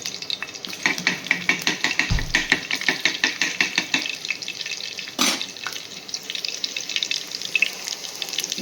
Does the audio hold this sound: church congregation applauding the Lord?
no